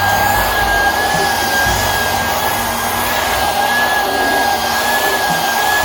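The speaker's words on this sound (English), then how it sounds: "Now this is where I use my handy dandy vacuum." A cordless handheld vacuum runs steadily and close, drawing fur off a blanket, with a constant whining motor hum and a high tone that never changes, and no pauses.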